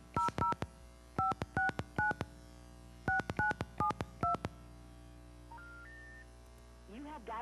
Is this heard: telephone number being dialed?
yes